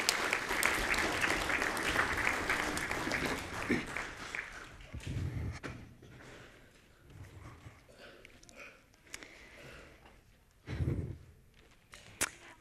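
A church congregation claps loudly at first, then the clapping thins into scattered claps, shuffling and a few louder hits as it fades out.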